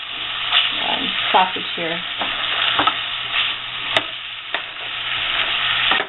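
Chopped white or yellow onion sautéing in rendered sausage fat, a continuous loud sizzle with stirring scrapes and a sharp clink, while a person talks briefly over it.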